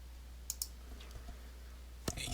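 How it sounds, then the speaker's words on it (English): A computer mouse clicks a few times while software is installed on an Ubuntu desktop: two quick clicks early, then a sharper click near the end, all faint and close over a low steady hum. "Let's click in here."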